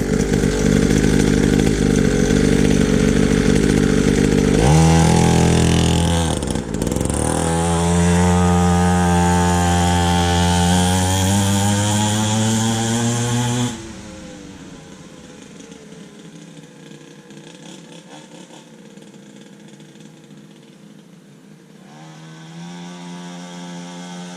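A Syx Moto pit bike engine with a new spark plug revs hard and buzzes loudly, rising in pitch for several seconds, then drops back to a quieter, steady idle.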